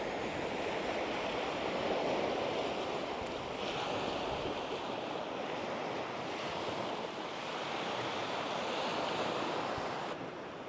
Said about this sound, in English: So Jervis Bay is known for the white sand beaches in Australia, or even in the world.